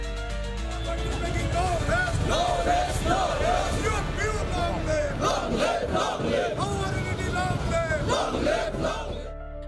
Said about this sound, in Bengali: নিজেদের দাবির সমর্থনে সরকার বিরোধী নানা স্লোগান দেন বিক্ষোভকারীরা